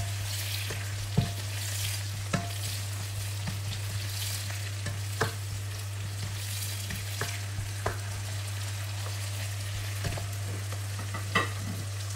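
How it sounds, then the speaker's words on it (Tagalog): Tomatoes sauté in a pan for sarsiadong tilapia, a constant low sizzle beneath periodic sharp clicks and scrapes of a utensil stirring, heard close and alone at a moderate level. "Lutuin lang natin ng konti ang ating kamatis."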